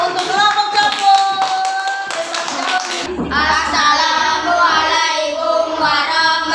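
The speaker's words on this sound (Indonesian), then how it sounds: "Beri tepuk tangan" A classroom gives the Sapung group a round of applause, with quick hand claps that start amid voices, then swell into a fuller, denser burst of clapping.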